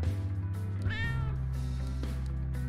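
A cat meows loudly and close in the video game Tokyo Dark, a single drawn-out call over a steady low musical drone.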